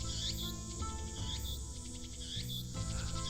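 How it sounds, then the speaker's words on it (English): Cicadas chirp steadily from a few trees around a shrine in the Steins;Gate visual novel, their shrill buzzing pulses repeating over a droning music bed with no talk. "I can hear the chirping of cicadas from the few trees growing here"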